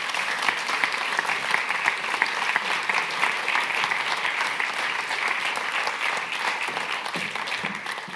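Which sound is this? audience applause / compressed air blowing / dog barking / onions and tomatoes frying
audience applause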